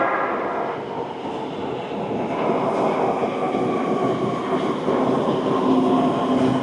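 A new metro train in Vietnam rumbles along at steady loudness for several seconds, a continuous close rolling roar with faint rail clatter and no voices.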